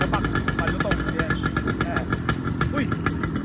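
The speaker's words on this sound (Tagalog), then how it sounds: "Para marinig natin yung tunog ng two-stroke." A two-stroke motorcycle engine runs with a rapid, buzzy, pulsing rhythm, loud and near, while people talk over it.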